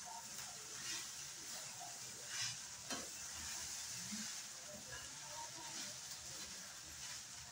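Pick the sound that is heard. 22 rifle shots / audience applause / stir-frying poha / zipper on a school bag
stir-frying poha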